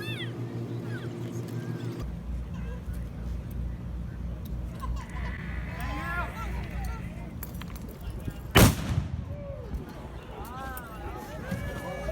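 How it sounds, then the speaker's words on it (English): At a police open house demonstration, a flashbang light sound diversionary device goes off with a single sharp, loud bang over outdoor crowd noise and a low engine hum, followed by distant chatter. "We are going to have what's called a flashbang, and the flashbang is also known as what is an LSDD, a light sound diversionary device."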